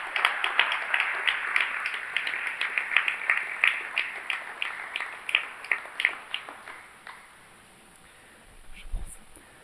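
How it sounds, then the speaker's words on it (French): Audience applause at a staged mock trial of Antigone, a burst of many hands clapping that stays dense for several seconds, then thins out and fades into scattered claps. "je vous demande d'applaudir Claire Asnor"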